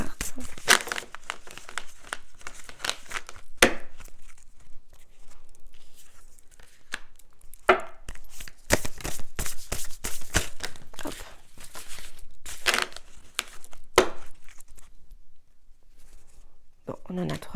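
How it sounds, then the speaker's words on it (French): Oracle cards are shuffled and drawn, giving repeated crisp rustling and snapping card sounds in irregular bursts, close by and moderately loud, with quiet stretches between. "On va aller prendre ici 2 cartes de développement personnel."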